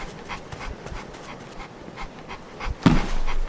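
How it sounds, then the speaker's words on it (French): A dog in the Roblox game Mad City pants in quick rhythmic breaths, a steady series of short huffs up close, ending with a louder burst. "C'est con ce chien."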